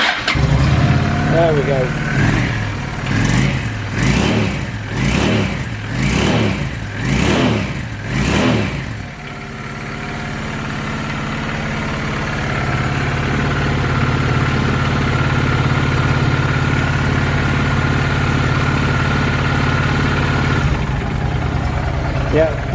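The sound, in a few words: 2007 Honda VT750 Shadow motorcycle engine starting with choke, revving, idling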